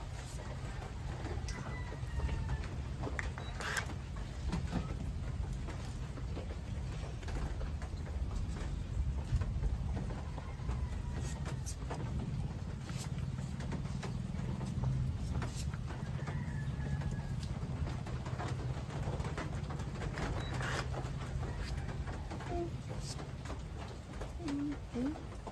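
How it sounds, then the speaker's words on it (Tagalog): Heavy rain falls steadily on a mountain, with a dense, continuous hiss and patter throughout. Scattered sharper drips or knocks occasionally break through the downpour. "Ang lakas ng ulan dyan yung bundok"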